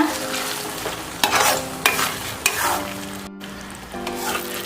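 Bread halwa is stirred in a hot pan, a continuous frying sizzle broken by several sharp scrapes of the spoon against the metal, close and clear.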